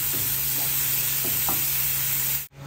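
Prawns sizzle in hot oil for a brief stir-fry, with a continuous bright hiss and a few soft scraping stirs before a sudden stop.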